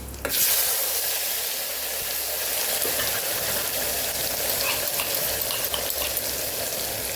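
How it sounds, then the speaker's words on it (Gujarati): Tomatoes and asafoetida sizzle steadily in hot oil as a tempering for Kathiyawadi undhiyu, a continuous close, bright crackling hiss with a loud onset after a brief quiet start and no talking. "ટમેટાનો આપણે વઘાર કરશું, 5 ચમચી જેટલી હિંગ ઉમેરશું"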